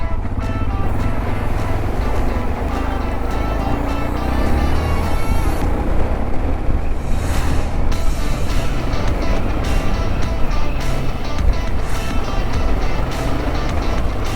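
A car drives along a road with a loud, continuous engine and road rumble that holds steady throughout, some brief rising whooshes suggesting passing traffic.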